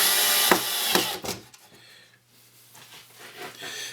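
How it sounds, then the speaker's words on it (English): A 3/4 inch screw is driven into wood with a power driver, a loud whirring burst with a few bursts and clicks at first, then fading to faint handling noises. "now that I have the top holes, I can put the top screw in"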